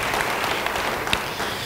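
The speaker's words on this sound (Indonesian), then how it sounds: "Yang percaya, beri tepuk tangan bagi dia." A church congregation claps together in a steady, dense burst of applause, fairly loud and close, with no speech over it.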